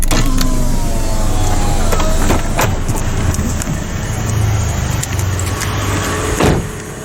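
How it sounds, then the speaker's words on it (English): A power window rolls down on the driver's side of a 2011 Suzuki Grand Vitara 2.4 JLX, a steady electric motor whir heard from close range inside the cabin, with faint clicks toward the end. "Turn on the fog light and roll down the driver's side window."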